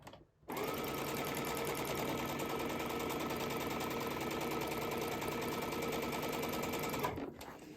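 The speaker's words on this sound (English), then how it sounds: "Just keep that sewing machine going." A sewing machine chain piecing fabric runs steadily for about seven seconds, a close, even rapid stitching whir with no pauses until it stops near the end.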